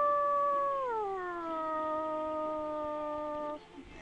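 A person imitates a dog-like howl, one long sustained falling wail that slides down in pitch and holds steady for about three seconds, close and fairly loud, with no talking.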